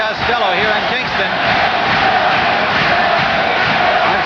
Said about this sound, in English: The crowd chanting Billy, Billy for Billy Costello here in Kingston